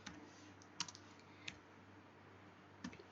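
Sparse clicks from a computer keyboard as code is typed: a few isolated keystrokes, then a short cluster near the end, quiet and close against a faint hum, with no speech.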